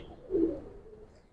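A Giribaz pigeon of the Palla line, held in a person's hand, gives a single soft, low coo, faint and brief against a quiet background.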